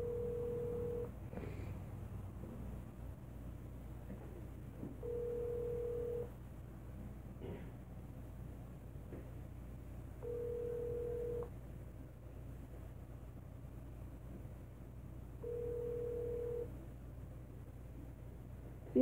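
A telephone rings out while a clinic is being called, four even tonal bursts about five seconds apart heard through the earpiece, quiet and steady over a low background hum, with faint voice-like murmurs in the gaps.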